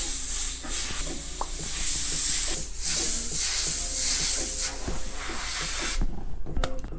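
A spray paint can hisses continuously and close by while graffiti is painted onto a hat, with faint tapping and handling noises underneath and the spraying stopping near the end.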